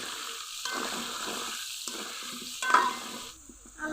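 Potatoes frying in oil with turmeric and salt, a close, steady sizzle broken by several bursts of stirring and scraping in the pan, loud throughout with a brief quieter gap near the end.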